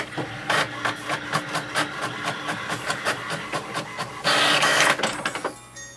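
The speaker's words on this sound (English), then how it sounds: "So hit any button you want and wait for it to do a print." An HP Envy 6000 all-in-one printer makes a copy, its mechanism whirring and clicking in a steady rhythmic series of pulses, with a louder burst of paper-feed noise toward the end before it winds down.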